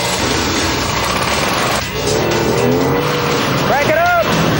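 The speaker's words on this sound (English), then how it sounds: "Gentlemen, start your engines!" Engines of junkyard-built combine harvesters roar loudly and continuously at the start of a race, with a brief lull, then rising revs and squealing tones over the steady din.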